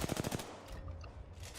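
Automatic gunfire from an Apex Legends match, a rapid burst of about five sharp shots at the start, followed by quieter game ambience and distant effects.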